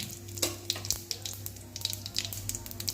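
Cumin seeds and dried red chillies frying in hot oil for ridge gourd chutney, a soft sizzle broken by scattered sharp crackles and pops, fairly quiet and close.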